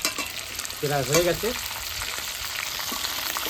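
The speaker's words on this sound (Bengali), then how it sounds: "এইবার কিছু কিছু মাংস দিয়ে দিয়ে ভেজে নেবো" Chicken pieces frying in hot oil for a chicken and taro curry, a steady broadband sizzle running throughout, with a brief voice speaking over it near the start.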